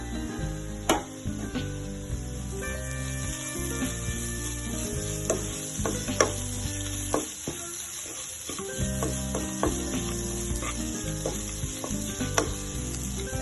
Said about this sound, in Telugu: పసుపు పొడి, కొద్దిగా సాల్ట్ వేసి వేయించుకోవాలి. బాగా వేగనివ్వాలి.